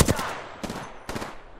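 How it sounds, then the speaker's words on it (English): Gunfire in a squad-based shooter video game, rattling out in three short, loud bursts about half a second apart, each fading quickly. "I'm shooting at all of them."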